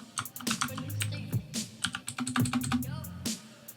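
Someone types on a computer keyboard to enter a name in the MXGP 2019 motocross game, a quick irregular run of close key clicks with a few louder presses and no talking.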